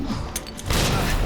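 A frag grenade is thrown and explodes during a G-Birkin boss fight in the Resident Evil 2 Remake video game: a brief mechanical click followed by a loud, dense booming blast that swells and lingers.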